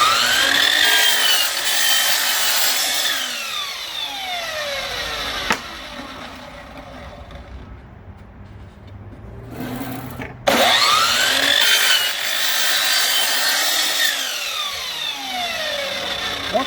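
Plywood tops for beehive swarm boxes being cut with a saw: two long, loud cutting passes separated by a quieter pause of a few seconds, with no talking.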